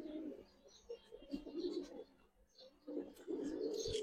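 Gribaz and coloured pigeons cooing in soft, low bursts, close by and fairly quiet, with brief pauses between phrases.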